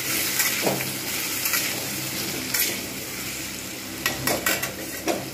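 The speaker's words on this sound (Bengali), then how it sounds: "কচুগুলো এর সঙ্গে ভেজে নেব।" Boiled taro pieces fry and sizzle in a pan while being stirred, a steady hiss broken by repeated scraping strokes of the spoon against the pan, close and moderately loud with no talking.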